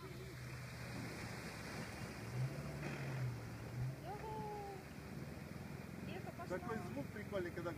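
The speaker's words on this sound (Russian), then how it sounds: "Такой звук прикольный, когда булькает" Water churns and sloshes continuously around an amphibious Vechicross vehicle swimming in a river, with a low engine drone and occasional tonal blips over the washing noise.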